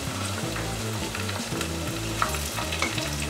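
Green chili and green peas fry in a pan, giving a loud, steady sizzle with rhythmic stirring scrapes. It is close and alone, with no voices.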